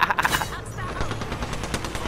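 Bursts of rapid automatic gunfire come from a ranked video game match, crackling in quick uneven volleys at a moderate level. A voice is briefly heard at the start.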